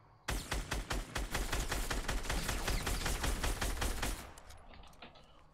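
Gunfire in the video game Fortnite crackles in a rapid, sustained automatic burst of many close, loud shots that stops abruptly and leaves quieter game noise trailing off.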